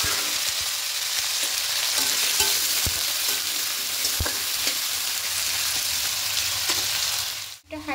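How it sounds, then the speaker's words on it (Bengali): Potatoes frying in mustard oil in a wok, giving a dense, steady sizzle close up with occasional clicks and stirring knocks throughout, then a brief dip near the end. "এই আলুটা প্রথমে একটু লাল লাল করে ভেজে"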